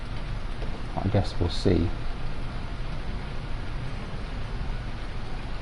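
Steady rain falls in Farming Simulator 19 as a constant, even hiss throughout, while someone speaks briefly over it.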